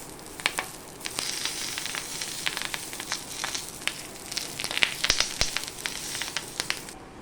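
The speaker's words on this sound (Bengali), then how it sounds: "এই কলা পাতার মোড়াটা দিয়ে একদম গ্যাসটাকে লো ফ্লেমে দিয়ে খুব আস্তে করে এটা ভাজতে হবে" Fish roe paturi wrapped in banana leaf frying slowly in oil over a low gas flame, a soft continuous sizzle scattered with sharp crackles and pops, close and steady with no talking.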